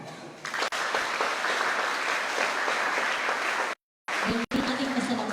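An audience at a school celebration applauds a student choir, a loud, continuous roar of clapping that cuts out abruptly for a moment near the end before resuming briefly.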